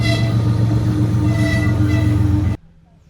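A train rumbles past in Yaremche with a steady heavy roar and tonal hum, then the sound cuts off abruptly near the end.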